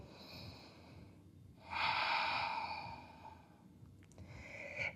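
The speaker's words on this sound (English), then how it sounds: "2 breaths here." Deep, slow breaths during a yoga stretch, one long audible exhale in the middle followed by another breath starting at the end, close and soft over quiet room noise.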